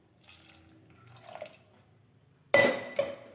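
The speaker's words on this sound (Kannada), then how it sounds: "ನೋಡಿ ಸ್ವಲ್ಪ ನೀರು ಹಾಕ್ತಾಯಿದ್ದೀನಿ" Water poured into a pot of matki (moth bean) curry: faint, scattered trickles, then a sudden loud splash and gush with a second brief splash just after, no voices.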